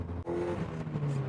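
Supercharged Mazda MX5 NB1 being driven along a road, engine holding a steady raspy drone heard from inside the car, a brief dip early on, then a rising tone as it pulls.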